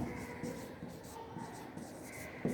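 A pen scratches out a math proof on paper in a quiet room, soft continuous strokes with small pauses and a faint knock near the end.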